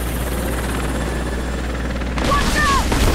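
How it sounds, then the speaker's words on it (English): A helicopter in the video game Rise of the Tomb Raider drones steadily with a heavy, continuous rotor roar, which swells louder near the end with a sharp burst of action sounds. "that's why we gotta be on the safe plan to get away from the helicopter"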